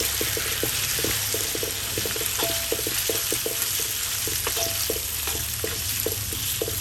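Marinated pork stir-fried in a hot wok or pan, a steady loud sizzle punctuated by frequent rhythmic clacks and scrapes of a spatula against the metal, with no talking.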